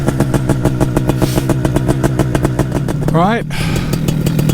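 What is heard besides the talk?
paramotor engine starting and running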